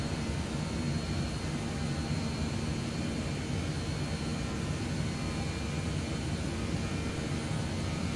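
An airliner accelerates after takeoff in Microsoft Flight Simulator 2020 as its flaps retract, giving a steady, full jet-engine roar that stays constant from start to finish, with no talking.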